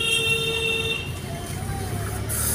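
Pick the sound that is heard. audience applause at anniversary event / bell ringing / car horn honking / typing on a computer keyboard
car horn honking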